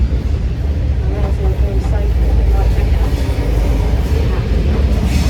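A V/Line Swan Hill N set train to Bendigo stands at the platform, a steady low rumble of idling engine and rail noise running throughout, close and fairly loud with faint voices in the background.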